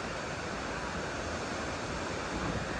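The Green River in North Carolina runs high after a night of heavy rain, with dam-released flows. It makes a dense, steady rush of water that stays loud and continuous throughout, with no pauses.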